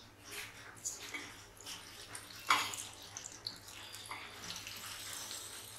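Water poured from a mug into a large cooking pot for boiling taro leaves, a close splashing pour with a brief louder gush midway and light drips, no talk.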